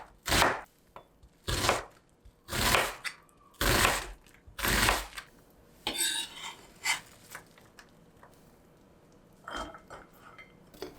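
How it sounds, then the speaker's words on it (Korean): A knife mincing onion on a cutting board gives a series of crisp, close chops at an uneven pace, followed by softer scraping and a few lighter taps. "양파를 다질게요"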